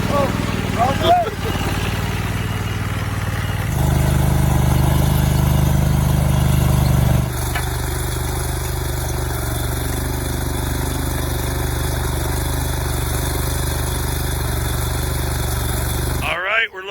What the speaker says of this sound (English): step two, renting the trencher. Trenches with Bubba. Rev it up, baby